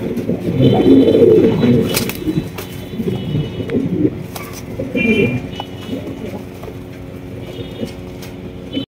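Pigeons at a breeding farm, including red-coloured birds, coo in low rolling calls, loudest near the start and recurring through the stretch alongside light background activity.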